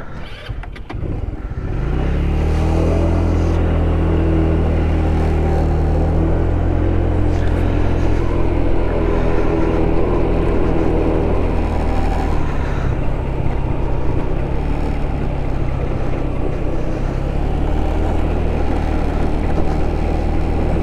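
A motor scooter starts up and then runs with a steady, loud engine rumble and drone while riding through a park, close to the microphone, with no talk.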